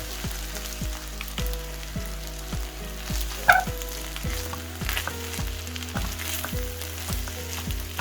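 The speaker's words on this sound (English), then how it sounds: "we're going to give this a good mix until all the rice is covered, blended in properly" Rice being mixed and fried in a pan over medium-low heat, a soft continuous sizzle broken by regular scraping strokes of a utensil and one louder clatter midway, with a low steady hum underneath.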